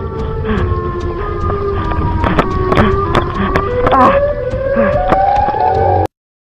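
A Siren Head creature in a forest gives off a loud, sustained siren-like hum with a slowly rising tone. It runs steadily for about six seconds, broken by sharp knocks and crackles, then cuts off abruptly.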